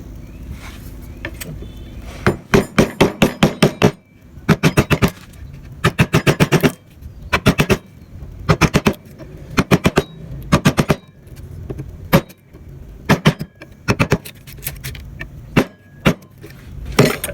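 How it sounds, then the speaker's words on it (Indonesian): A hammer strikes a penguku chisel in Balinese wood carving, loud close bursts of rapid, evenly spaced taps in groups with short pauses between them, ringing sharply, with no talking. "Gunakan pahat penguku."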